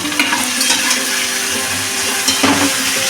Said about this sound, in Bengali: এবার আমি মাছগুলো সব দিয়ে দেবো